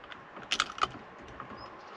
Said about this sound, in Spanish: una arandela que acaba de caer